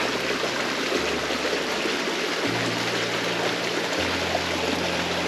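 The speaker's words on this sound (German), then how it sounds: "Bach mit Pilgerschatten." A stream flows beside a pilgrim trail between Dießen am Ammersee and Hohenpeissenberg, a steady broadband rush of water that stays constant throughout, with a low hum shifting underneath and no voices.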